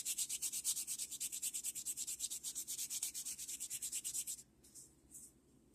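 Close, quiet rhythmic scrubbing of a buffing block on a fingernail as a natural shine is buffed off, with fast even strokes that stop briefly, then a few softer rubs.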